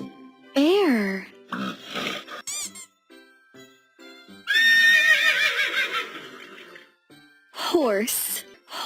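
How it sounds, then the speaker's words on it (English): A horse gives a loud, shrill whinny that rises and then trails off in a shaky flutter over a few seconds, close by, with brief spoken words before and after it. "Horse."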